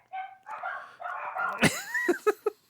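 Dogs bark close by, with a few sharp, yipping barks bunched near the end, following a stretch of voice-like vocalizing.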